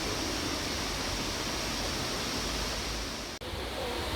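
Steady, loud rushing of an artificial waterfall cascading over moss-covered rocks and trees at a cafe in Seoul, a dense broadband roar that holds constant with one brief dip near the end.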